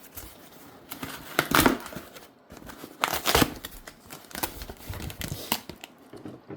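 Scissors cut open a shipping package while a new tool is unboxed, giving sharp snipping bursts mixed with crinkling and tearing of packing material, close and intermittent, with short quiet gaps between cuts.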